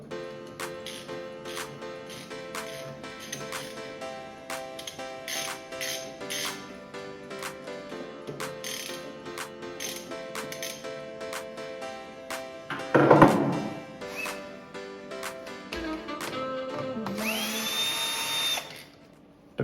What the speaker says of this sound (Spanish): retiramos cada uno de los tornillos que tiene cada una de las tapas, tanto la frontal como la posterior